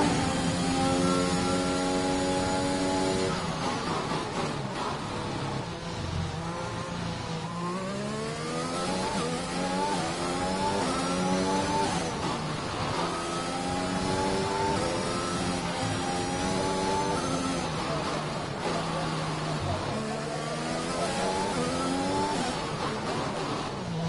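Racing engines in a PlayStation 4 racing game rise and fall as the car shifts gears around a track, a loud, continuous whine of repeated upward pitch sweeps with no talk.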